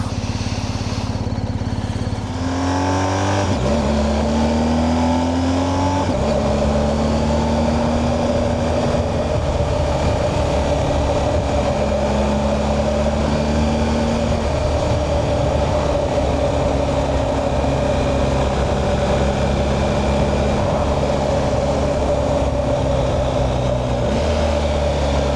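A motorcycle engine held on throttle during a road ride from Fife to John O' Groats, a loud, steady drone close by whose pitch steps up and down through gear changes for the whole stretch, with no talking.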